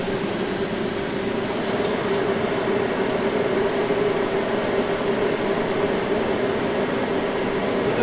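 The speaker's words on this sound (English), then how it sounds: "There's the AC right there." RV rooftop air conditioner running off a lithium battery bank, a steady loud hum and broadband whoosh of compressor and fan that holds constant throughout with no talk over it.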